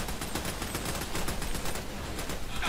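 Dense gunfire barrage in the video game Army of Two, rapid overlapping shots in a steady fusillade, fairly quiet and continuous with no talk.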